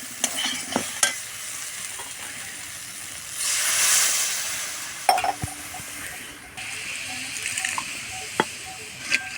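Mustard paste fries with spices in a pan while being stirred, giving a steady close sizzle, a brief louder hiss and a few sharp utensil taps against the metal.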